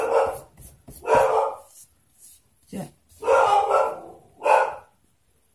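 A dog called Bonnie barks in a few loud bursts indoors, close by, with a person speaking briefly between the barks.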